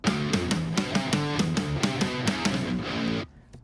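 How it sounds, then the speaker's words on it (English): Snare drum layered with distorted guitars that hit together on every snare stroke, a dense loud mix of sharp repeated cracks over chugging guitar chords, ending abruptly into near silence. "the guitars are hitting every time the snare hits"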